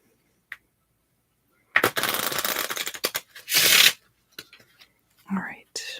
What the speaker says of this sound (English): These cards shuffle really easily.